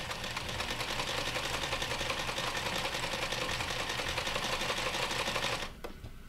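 A sewing machine stitches fabric in a steady, close, continuous run with a fast mechanical rhythm, stopping abruptly near the end.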